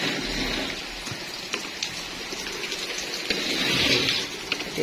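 Rain falls steadily onto a balcony, a continuous close hiss with scattered louder drips and patters, swelling slightly toward the end, with no voices.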